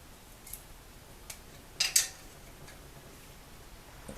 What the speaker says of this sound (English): You take your 2 wrenches and you jam them together.